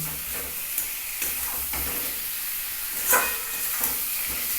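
Egg curry with boiled potatoes sautés in a pan over a gas stove turned up high, giving a steady close sizzle and hiss broken by several sharp scraping stirs, with no talk.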